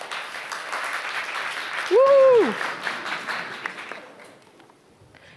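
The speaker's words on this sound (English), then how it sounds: "Applause for him." An audience at an international lean and operational-excellence conference applauds a participant with a full round of clapping, topped by one loud whoop in the middle, before the applause thins out and fades.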